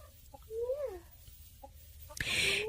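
Backyard chickens clucking on a farm while straw is being spread before snow, a few short mid-pitched calls and a rising warble close by, followed by a louder rustling burst near the end.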